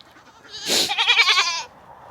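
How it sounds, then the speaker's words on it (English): A goat on a homestead lets out a loud, close bleat lasting about a second, wavering and quavering, with quiet farmyard background before and after. "They don't see the goats chewing on my pants as I'm standing here"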